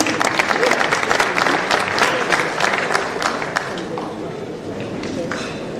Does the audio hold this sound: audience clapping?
yes